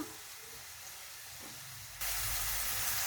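Chopped tomato drops into a hot pan of onions for egg tawa pulao. A soft background hiss jumps into a loud, sustained sizzle that keeps going steadily to the end.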